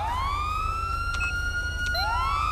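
A police car siren from the GTA 5 LSPDFR mod wails loud and close, a rising and falling tone that sweeps upward again near the end, over a constant low engine rumble.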